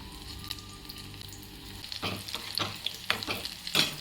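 Mushroom bonda batter dropping into hot oil and frying, a steady close sizzle that swells after a quiet start, with bursts of crackling bubbles and occasional stirring scrapes.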